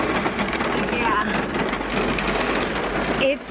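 Heavy rain pours down during a severe storm with a tornado warning, a steady dense wash of downpour filling the scene throughout, with faint rumbling underneath and a brief lighter moment near the end.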